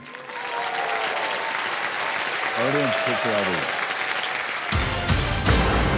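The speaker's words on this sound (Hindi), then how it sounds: "ताली बज जाए." Studio audience applause on the KBC Season 15 TV quiz show, steady dense clapping throughout, with a host speaking over it and a burst of music near the end.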